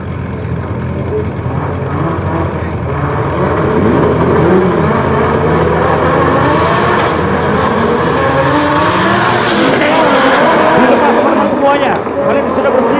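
A Toyota GT86 and a BMW M6 drift in tandem at a Drift Kings Indonesia competition, engines screaming and revving with rising and falling pitch while tyres squeal, under a commentator talking loudly and continuously throughout.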